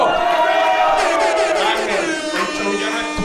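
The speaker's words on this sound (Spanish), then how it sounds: "¡Un aplauso a Bucho!" An audience at a comedy show cheers and hollers loudly in a rowdy burst of crowd noise that fades slightly toward the end.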